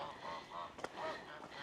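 A few geese honk in soft, separated calls at a moderate distance in rainy weather, with steady background hiss and no talking.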